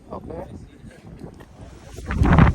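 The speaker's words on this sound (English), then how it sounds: "I know it's probably a little windy" Wind buffets the microphone outdoors at a cars and coffee event, low rumbling gusts rising to a loud blast in the last half second, with voices talking underneath.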